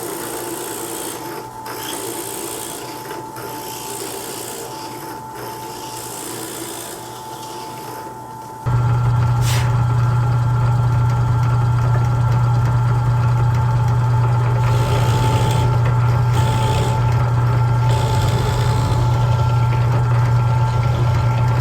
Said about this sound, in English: just put this drill bit in my drill, my hand drill, and just run it down through there and just ream it out a little bit